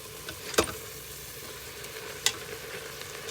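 Garlic sizzles quietly in a pan, a soft continuous hiss with a few sharp scrapes of a spoon stirring, fairly faint and without talk.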